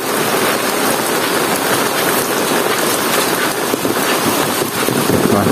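Steady rain falls over a village in the Tasikmalaya countryside, a dense, continuous hiss of drops on surfaces that stays loud and even throughout, with no voices.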